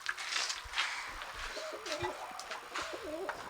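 Male pigeon cooing in a loft, a close series of soft, low warbling coos with some light rustling and faint background noise.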